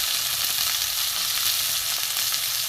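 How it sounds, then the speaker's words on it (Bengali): Bitter gourd fries in hot oil in a wok, a continuous loud crackling sizzle up close, steady throughout with no voices. "উচ্ছেটা প্রথমে আমি ভেজে, তেল গরম হয়ে গেছে পুরো।"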